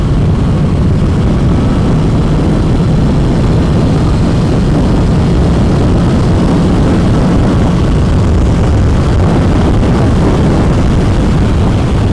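A Honda CBR650R motorcycle engine revs hard while riding, a loud, dense, continuous engine roar mixed with rushing wind, holding steady without pause.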